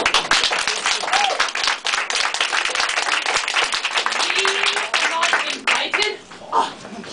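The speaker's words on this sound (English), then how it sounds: "May we welcome our special guest with a round of applause." Applause from an audience welcoming a special guest couple at an evening event, a steady dense clapping that runs throughout with a few children's voices rising above it near the end.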